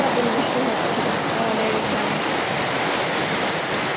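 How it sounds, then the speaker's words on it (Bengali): Dense, steady downpour hisses loudly and evenly, a continuous wash of heavy rain close by. "বৃষ্টির অবস্থা দেখতে পাচ্ছেন আপনারা"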